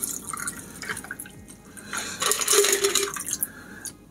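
A gin and basil cocktail is strained from a shaker into a glass, with light drips and trickles that swell into a brief, brighter splashing pour midway and then taper off.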